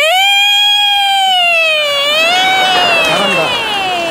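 A performer on a Korean TV comedy stage vocally imitates a siren, a single voice sliding up and down in a sustained wail for about four seconds, loud and close, with faint crowd noise underneath.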